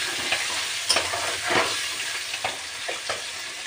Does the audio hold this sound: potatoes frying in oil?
yes